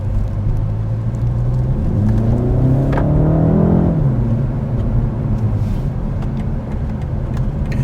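A 2021 BMW 228i Gran Coupe engine in sport mode revs loudly from inside the cabin, pitch climbing sharply through one rising sweep and then dropping back to a steady droning cruise.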